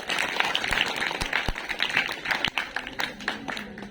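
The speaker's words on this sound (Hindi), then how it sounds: "उसी के लिए जोरदार तालियां।" An audience at a school girls' education program applauds a class 10 student speaker, a scattered burst of clapping with sharp individual claps standing out over a noisy room.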